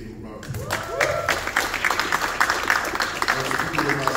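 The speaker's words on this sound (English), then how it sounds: "Can we give him a round of applause?" Audience applause at a Malcolm X event: dense, continuous clapping from a crowd fills the whole stretch at steady loudness after a brief quieter start.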